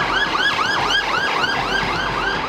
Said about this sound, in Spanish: La gente a veces se molesta con el ruido de la sirena cuando vamos pidiéndoles que nos cedan el paso